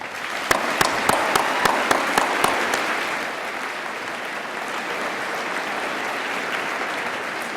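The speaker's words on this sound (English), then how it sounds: "Please give them a round of applause" Audience applause at a high school Veterans Day program: a few sharp, separate claps open it, then a sustained, even roar of many hands clapping fills the room at a steady loud level.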